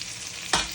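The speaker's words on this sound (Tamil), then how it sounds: "வெங்காயம் போட்டு நல்லா வறுக்கணும்." Onions and whole spices (fennel, cinnamon, star anise, cloves, cardamom) fry in a pan with a steady close sizzle, then a sudden louder burst as they are stirred.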